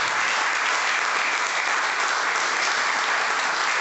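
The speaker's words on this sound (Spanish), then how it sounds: "Dale un aplauso al Señor" Steady, dense applause from a church congregation, sustained and even throughout with no pauses or voices.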